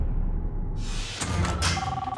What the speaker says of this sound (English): What's that noise? That was just my phone.